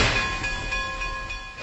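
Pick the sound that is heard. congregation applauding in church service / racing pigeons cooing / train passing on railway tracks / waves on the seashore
train passing on railway tracks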